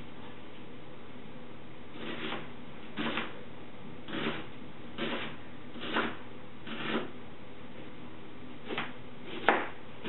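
A kitchen knife dices a red onion on a cutting board, giving soft, evenly spaced chopping taps about once a second over a faint steady background hiss.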